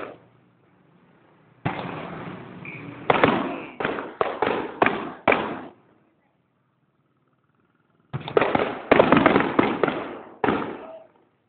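Fireworks pop repeatedly during Christmas, loud close bursts coming in rapid clusters, then a pause of silence before another quick volley of cracks.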